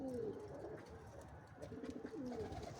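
Pet doves (qamari) cooing softly in a few low, rolling calls over a faint background hum, with no talking.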